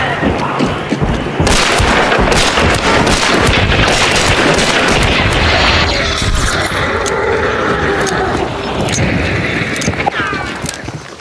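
Dense, continuous video game gunfire with rapid automatic bursts and booming impacts that fill the whole stretch loudly, with a player's voice talking over the shooting.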